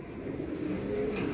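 Domestic pigeons cooing inside a loft, soft low burbling calls running steadily under a quiet background hum, close and continuous.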